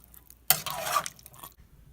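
Ingredients for a country Lao-style chicken soup being stirred and mixed in a bowl, a single short burst of scraping and stirring that lasts about a second, with quiet before and after.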